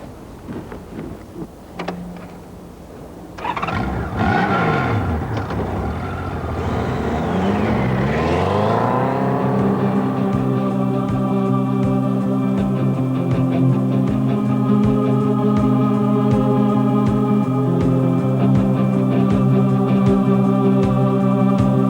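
Honda USA and BMW motorcycles from 1988 on the open road: engine notes climb and sweep as the bikes approach and accelerate past, then settle into a loud, steady droning hum of running engines with wind noise.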